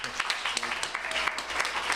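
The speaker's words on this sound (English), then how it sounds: "let's give a warm welcome of applause to Ed" A retreat audience gives brief, lively applause to welcome a speaker, with crisp individual claps close by and a faint voice underneath.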